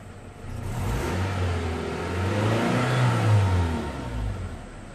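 A Toyota Hilux engine revs up, its pitch rising and swelling to a peak before easing back, a steady mid-level roar close by.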